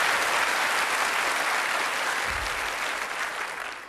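Studio audience applause at a Dutch NCRV television game show after a dance opening by the Barry Steven Dancers, a dense, steady wash of clapping that fills the whole stretch and eases slightly toward the end.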